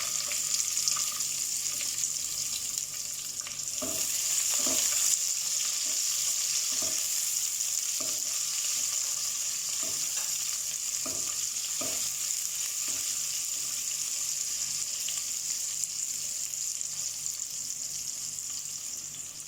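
Chopped onions and two green chilies sizzle steadily in a pan of crackling spices for veg pulao, with a spoon scraping and stirring in irregular strokes over the constant frying hiss.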